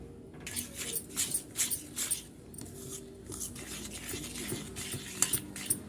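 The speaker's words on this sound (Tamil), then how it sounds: "நல்லா விஸ்கி வச்சு நல்லா மிக்ஸ் பண்ணிக்கோங்க" A whisk stirs gram flour mixture for Tamil-style Mysore pak in a bowl, giving rhythmic scraping and clinking strokes in quick bursts, close and fairly quiet, with no talking.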